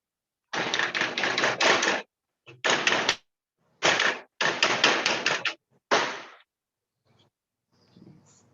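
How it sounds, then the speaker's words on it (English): Sheet metal clamped in a vise and bent over for fold forming: rapid bursts of sharp, ringing metallic taps in quick rhythmic runs, separated by short pauses and ending in near silence. "I'm going to get a fold by actually putting it back in the vise and bend it over."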